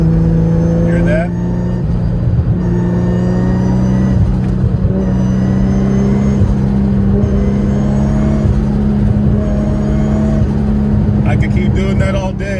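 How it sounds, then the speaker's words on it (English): A Nissan R32 GTR with a straight-cut gearbox and single turbo revs loud and close, a dense engine roar carrying sustained gear whine and rising pitch sweeps, continuous across the whole stretch. "I'm listening to straight cut gearbox, and amazing sounding turbo, single turbo"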